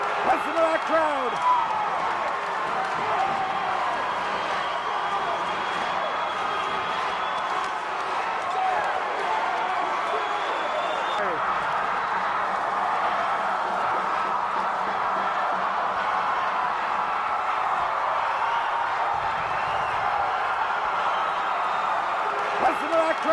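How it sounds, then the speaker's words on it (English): A packed gym crowd roars nonstop after the Crusaders clinch a high school basketball championship, with dense cheering, shouting and clapping holding at a loud steady level throughout, and voices shouting within the din. "Listen to that crowd."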